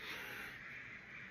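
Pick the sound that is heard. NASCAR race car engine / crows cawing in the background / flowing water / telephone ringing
crows cawing in the background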